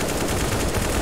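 Garry's Mod gunshots fire in a fast, continuous machine-gun-like stream, loud and close, with no voices.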